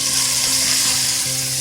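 Tomato paste sizzles and fries hard in a pan of mutton korma, a loud, dense, continuous hiss with a low hum underneath, no voices.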